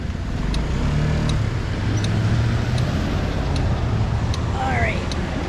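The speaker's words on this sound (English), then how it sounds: "This is a really busy intersection." Busy intersection traffic heard from a bicycle: a continuous wash of passing cars and road noise with wind rumble, engines swelling and fading nearby, a few faint ticks and a brief high squeal near the end.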